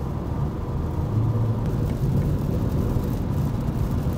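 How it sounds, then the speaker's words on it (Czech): Rain on a BMW M440i G22 with its 275 kW inline-six cruising the D1 highway toward Prague, a dense broadband wash of rainfall and tire roar over a low cabin drone, steady and continuous. "protože tady opravdu prší tady"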